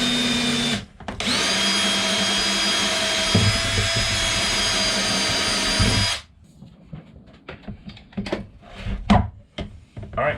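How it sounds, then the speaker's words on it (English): A power drill fitted with a unibit spins at a steady high whine for several seconds while boring a hole across the side of a greenhouse heating setup, then stops, followed by scattered clunks and handling noises. "So let me get my drill"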